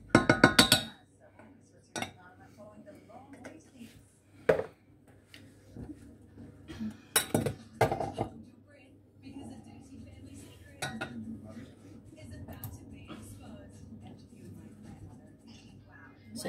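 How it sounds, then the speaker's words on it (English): A utensil stirs mushrooms through melting butter in a frying pan, giving sharp metallic clinks and scrapes at irregular intervals over a low, steady background hum. "just stirring the mushrooms just so all the butter melts"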